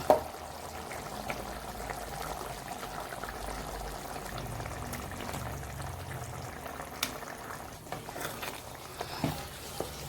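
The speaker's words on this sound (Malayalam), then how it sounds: "നമ്മുടെ ഗ്രേവി എല്ലാം നന്നായിട്ട് തിളച്ചിട്ടുണ്ട്" A steady, bubbling simmer of thick spicy fish curry gravy in a pan, close and continuous with a soft gurgling texture and occasional small pops.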